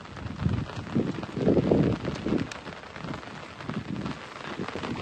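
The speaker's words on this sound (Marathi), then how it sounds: "सकाळ धरून पाऊस येतोय" Morning rain falls outdoors in a steady, close wash of noise, swelling and easing in soft heavy gusts with no voices heard.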